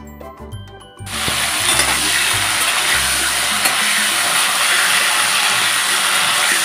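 Oil heating in a pan on a home kitchen stove breaks into a loud, steady hiss and crackle after a second of clinking, continuing evenly and close.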